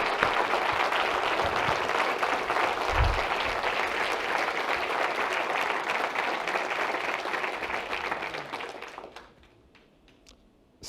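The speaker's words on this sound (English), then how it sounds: "Let's take a moment to give them a warm round of applause." Sustained applause from a graduation ceremony audience, dense and steady for about nine seconds before fading quickly to near silence.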